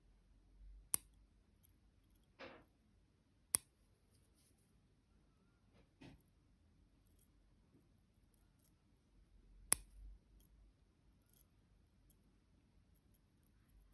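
Scissors trimming excess threads from needle lace give a few sharp, isolated snips spread across a quiet stretch, close and crisp, with soft rustles of handling between them.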